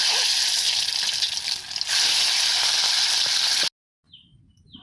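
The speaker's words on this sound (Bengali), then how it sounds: "ডিমটা ভেজে নিচ্ছি কড়াইতে" An egg fries in a wok with a loud, steady sizzle that dips briefly and then resumes before stopping abruptly, followed by a few faint clinks.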